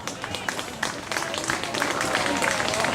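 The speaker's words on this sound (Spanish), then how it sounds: "Dale un aplauso, hermano." A church congregation applauding during a Spanish-language prayer service, with scattered claps thickening into fuller applause that grows louder toward the end, heard fairly close with some voices mixed in.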